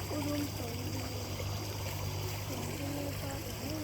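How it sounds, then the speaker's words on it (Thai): Water flowing steadily in a small stream through a rice field, a continuous close trickling rush with faint chirping tones in the background and no talking. "เออน้ำตกหรือน้ำไหลเนี่ย น้ำไหล"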